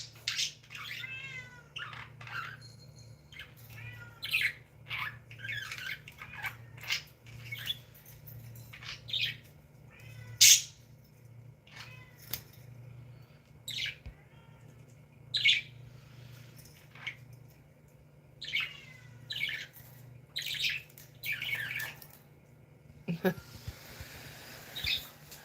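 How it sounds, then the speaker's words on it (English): A cat meows again and again in short, soft calls while small birds chirp and tweet around it, the sounds scattered and fairly quiet. "Your cat is also talking to the birds and my cat."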